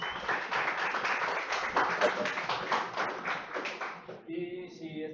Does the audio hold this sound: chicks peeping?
no